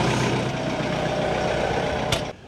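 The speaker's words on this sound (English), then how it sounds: "We'll go ahead and let the tractor warm up." A tractor engine idles while warming up, a loud, steady low rumble with a brief hiss near the end before the sound drops off slightly.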